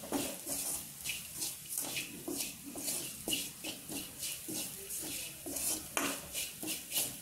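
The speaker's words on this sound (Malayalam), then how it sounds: "അതൊന്ന് വഴറ്റി അതൊന്ന് ആ പച്ചമണം മാറുന്ന വരെ നമ്മൾ വഴറ്റി എടുക്കണം" Chili powder being sautéed in a pan for Kerala beef ularthiyathu, a spatula scraping and stirring in a steady, even rhythm of close, clattering strokes with a soft frying hiss beneath and no voices.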